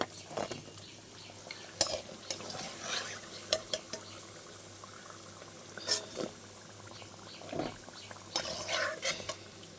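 Doi chop sweets frying in oil, a soft bubbling under intermittent metallic clinks and scrapes of utensils against the pan, close and moderately quiet.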